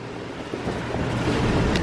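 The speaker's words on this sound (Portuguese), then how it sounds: "tem muito vento" Strong wind roars across a sailing boat at a Caribbean anchorage, a dense, broadband rush that swells steadily louder, with water sloshing beneath and no voices.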